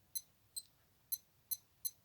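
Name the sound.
digital watch beeping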